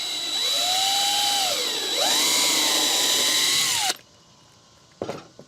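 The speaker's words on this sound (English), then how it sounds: "So I'm going to drill a hole like this for this" A power drill whines at high speed, its pitch dipping and rising as it bores into wood for a bluebird house, then stops abruptly, followed by a brief clatter.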